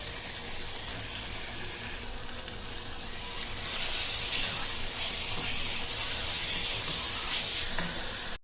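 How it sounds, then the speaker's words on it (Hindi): Chicken pieces frying in masala and oil in a pot, a soft steady hiss of sizzling that swells louder partway through, heard alone without speech. "अभी हम ये चिकन डालेंगे और चिकन को मसाले के अंदर अच्छे से भूनेंगे।"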